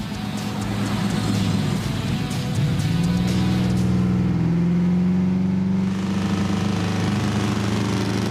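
A sleek restored car rolling along a country road, its engine droning steadily near and loud with a rising, sustained revving tone through the middle, the motor's hum continuous throughout with no voices.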